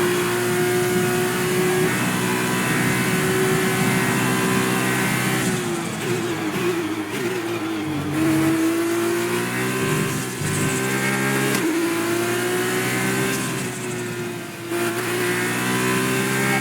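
An F2 race car in the F1 2020 video game laps the Catalunya circuit, its engine whining loudly and continuously, rising and falling in pitch through several gear shifts and braking dips.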